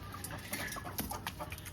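Hens clucking softly as they come in to peck at scattered grain, short irregular clucks and chirps close by over a quiet farmyard background.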